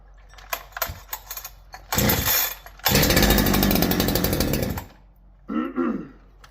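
A Holzfforma G372 chainsaw with a crankshaft seal failure gets several pull-cord yanks, then roars to life for about two seconds and cuts out. A short final burst of engine sputter follows.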